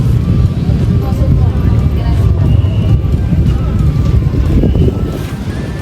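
Strong wind buffeting the microphone at a memorial park during an overnight stay with a tent, a loud continuous low rumble with gusty surges throughout, while a person talks intermittently over it.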